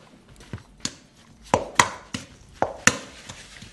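Minced meat for Dutch meatballs being mixed by hand with breadcrumbs, salt and pepper, giving a series of soft wet slaps and squelches at an irregular rhythm, close by and fairly quiet, with no talk.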